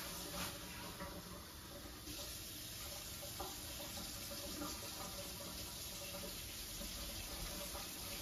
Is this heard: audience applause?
no